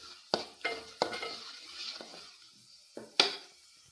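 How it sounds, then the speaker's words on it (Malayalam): Ginger frying in hot oil for a curry, a close steady sizzle broken by several sharp stirring clinks and scrapes of a utensil against the pan. "അങ്ങനെ ഇഞ്ചിയൊക്കെ ഒരുവിധം മൂത്ത് വരുന്നുണ്ട്."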